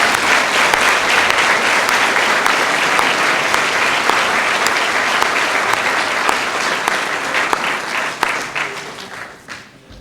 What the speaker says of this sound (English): I wish you would join with me in giving him a round of applause